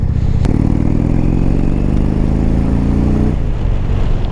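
A Harley-Davidson-style touring motorcycle cruising on a wet road, its steady engine drone loud and close with a low rumbling harmonic layer, a brief clatter near the start, and the engine note easing off toward the end.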